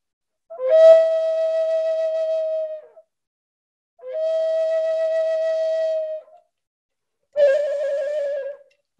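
Flute imitating a loon call: three long, sustained wavering tones with pauses between, the last one shorter and more warbling, clear and alone.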